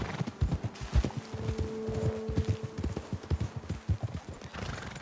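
Horses trotting in Red Dead Redemption 2, a busy run of close, rhythmic hoof clip-clops with a short whinny partway through, heard with no talk.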